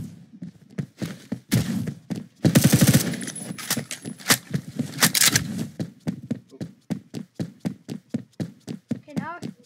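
Rapid automatic gunfire in the video game Phantom Forces, loud and close, with sustained bursts and a steady run of single shots, under a player's talk.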